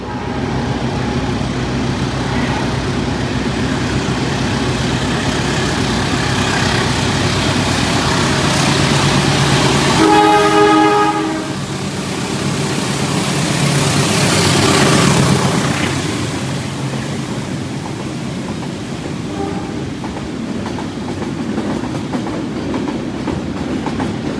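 Locomotive shunting at an Indonesian station ahead of the KA Bogowonto executive train, a steady rumble of rail movement with a brief rhythmic clatter of wheels over joints midway and a swelling pass of engine noise, no talk.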